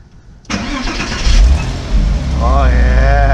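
A 2001 Porsche Boxster engine cranks and catches after a radiator fan bearing repair, then settles into a steady, close idle. A brief rising whine follows partway through.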